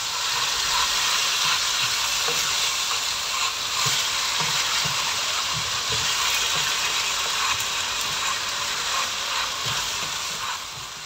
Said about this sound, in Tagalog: haluin lang po natin ito ng mabuti